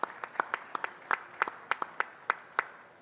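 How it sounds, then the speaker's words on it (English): A convention audience at the American Farm Bureau gathering gives a round of applause: light, sparse clapping with distinct individual claps, moderately distant and fairly quiet, no voices on top. "Let's give them a round of applause."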